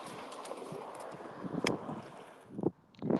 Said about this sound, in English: Cold, wet, windy.